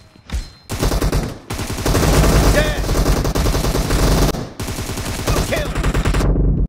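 Automatic weapon fire in the mobile battle royale game PUBG Mobile, loud sustained bursts with short gaps between volleys, rapid rattling shots close by, with faint game voices in the mix.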